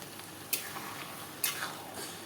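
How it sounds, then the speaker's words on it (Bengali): Taro greens cooking with a hilsa head in a pan give off a quiet steady frying hiss, with two brief scraping stirs close by and no talking. "আমি এটাকে একটু ঘেঁটে ঘেঁটে রান্নাটা"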